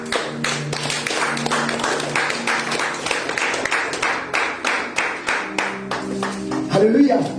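A church congregation claps steadily in rhythm while acclaiming Jesus during a French-language Easter service, with voices and crowd noise blending throughout and a louder swell near the end.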